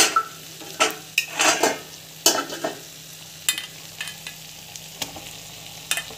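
Food sautéing in a pan: a series of close spoon scrapes and clinks, several bunched in quick bursts, over a low background sizzle, with no talking.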